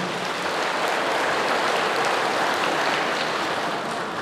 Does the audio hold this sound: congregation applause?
yes